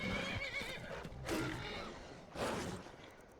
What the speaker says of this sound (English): there's a horse up here fighting a big kitty